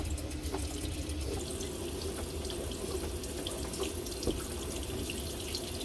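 Cold water pours steadily from an RV faucet into a sink, a continuous close rushing stream with a faint drip or two and no talking.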